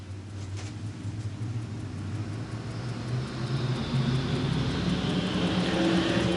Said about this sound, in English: 20 laps of distance for tonight's USRA Ironman stock cars